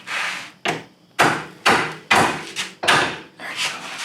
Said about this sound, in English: sometimes you got to give her a couple of love taps